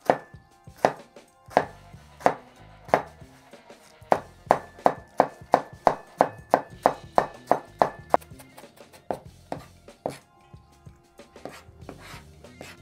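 Cabbage is finely chopped with a knife on a board, a run of sharp, evenly spaced chops that speeds into a quick rhythmic burst before slowing to scattered, lighter cuts, close and clear with no talk.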